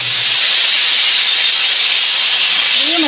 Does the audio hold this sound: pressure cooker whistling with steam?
yes